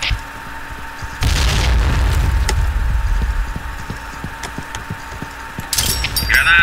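A grenade goes off in a video game with a deep booming blast and rumble, followed by scattered crackles, then a second loud burst near the end.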